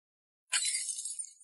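A hairpin drops and shatters, giving a sudden bright glassy crash after a moment of silence, then a short tinkling ring that fades out.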